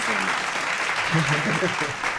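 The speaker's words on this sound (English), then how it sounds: "Are you sure I didn't clap too early?" Steady applause from a group, clapping continuously with voices mixed in underneath.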